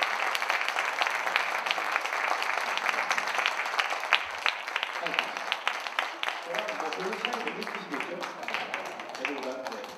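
Audience applause after a year-end orchestra concert, dense sustained clapping from a large crowd for ten seconds, with voices talking underneath in the later part.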